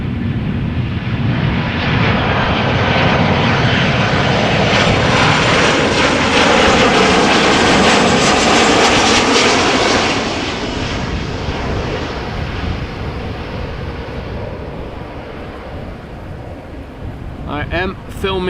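Airliners land on runway 06 at Amsterdam Schiphol in a left crosswind, a loud roaring engine swell that builds, peaks midway and then fades, with wind buffeting the microphone throughout.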